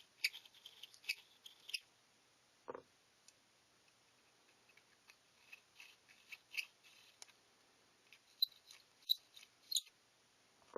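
Faint, intermittent scraping and clicking of a deburring tool working the inside and outside mouth of a freshly cut 300 Blackout brass casing, in short uneven strokes with quiet gaps between them.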